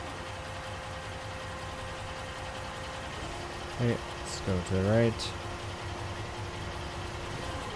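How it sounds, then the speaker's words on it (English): A mobile crane's engine and hydraulics in the Construction Simulator video game give a steady, low droning hum throughout, while someone talks briefly over it in the middle. "you can hear the engine work up a little bit more. And the hydraulics need more power"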